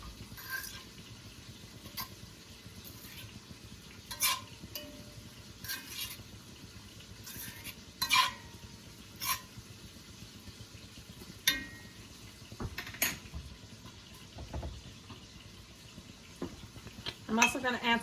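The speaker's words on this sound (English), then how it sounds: "I'm just going to take a fork, spread out the potatoes with the sausage" A fork scrapes and clinks against a pan while diced potatoes and sausage are spread out for breakfast burritos, with intermittent metallic taps over a low background hum.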